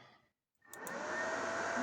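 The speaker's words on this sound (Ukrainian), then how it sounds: "Запустився вентилятор." Cooling fan of a HOULI 2500 W power inverter spinning up after a brief silence, rising quickly into a loud, steady whirring hum that continues on its own.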